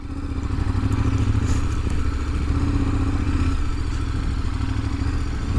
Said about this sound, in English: I'm adventuring on the KTM adventure bike, and that's what this bike is for